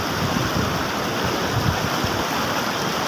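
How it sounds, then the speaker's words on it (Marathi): The Krishna river flows in full flood at Wai with a steady, loud rushing roar of water, broadband and continuous with no talk over it. "बघा बघा कशी फुल नदी वाहते मित्रांनो"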